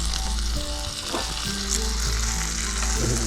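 Flathead fish pieces fry in a hot pan, giving a steady close crackling sizzle with a few scraping stirs and spatters throughout.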